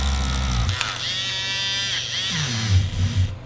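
Handheld electric eraser with a powerful motor, a close buzzing whir that rises and dips as it is pressed against paper, with rattling vibration and a short lower rumble toward the end.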